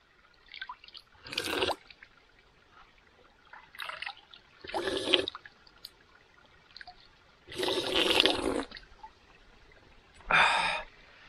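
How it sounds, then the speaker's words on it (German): Someone outdoors in the wild drinks cold water, with several separate bursts of sloshing, gulping and breathy gasps split by short quiet pauses, close and fairly soft. "Aber ich habe Durst, deswegen muss ich trinken."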